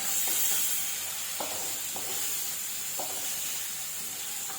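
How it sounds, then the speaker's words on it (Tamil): Chopped tomato and a green chili sizzling in a hot frying pan with a steady soft hiss and a few light stirring clicks, close and fairly quiet, with no talking. "தக்காளி கூடவே பச்சை மிளகா ஒன்று அது கூட சேர்த்து போட்டுக்கிறேன்."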